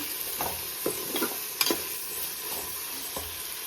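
Tomatoes fry in a pan for an egg pulao, with a steady low sizzle broken by several scraping stirs of a spoon, spaced roughly every half second to second, close and moderately loud, no talking.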